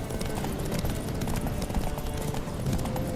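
Horse hooves clip-clop steadily in The Witcher 3: Wild Hunt, a dense, continuous rhythm of hoofbeats under a busy game soundscape, with no voices heard.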